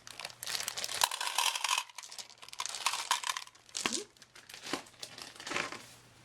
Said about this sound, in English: the first thing I'm going to do is add some candy, and it's probably going to be really loud